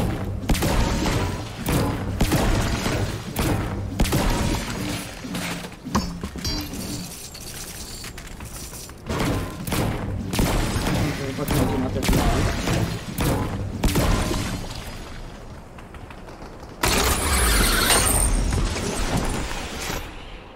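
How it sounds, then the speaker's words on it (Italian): Fortnite gunfire in a solo match comes in intermittent bursts of rapid shots and heavy booms, with quieter gaps between volleys and a sharp, loud flurry near the end. "Lì ci sono spari."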